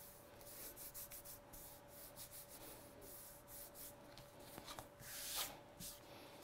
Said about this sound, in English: I'm just going to use my eraser, get rid of those marks.